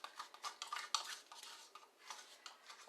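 A metal spoon scrapes and clinks against the inside of a mixing bowl while baking powder is stirred into a low-carb mix: quiet, close, irregular scratchy strokes with a few small clinks, no talking.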